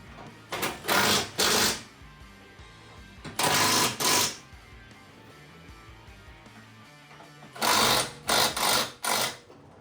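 Short bursts of an impact wrench rattle as body mount bolts are tightened on a Jeep Wrangler JKU, three clusters of two or three loud, close hammering runs separated by pauses.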